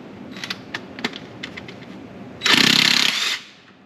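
A tool working on the dual-mass flywheel bolts of a Porsche Boxster 986 gives a few sharp metallic clicks, then a loud, close burst of rattling impact for about a second before it stops.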